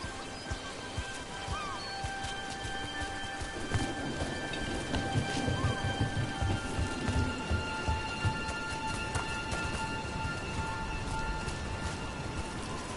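Steady heavy rain with rumbling thunder in a video game, a continuous dense hiss of falling water with low rolling booms throughout, constant and fairly loud.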